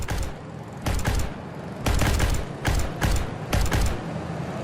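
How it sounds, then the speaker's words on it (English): Gunfire from an armoured personnel carrier during combat, with a Bradley involved: about five loud, broadband bursts of fire arriving in quick, uneven succession over a steady low rumble, with no voices. "It opens fire and shoots directly at the American APC."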